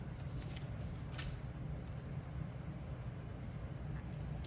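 Tarot cards are shuffled and drawn by hand, with several soft, quick riffles and flicks close up, faint over a steady low room hum.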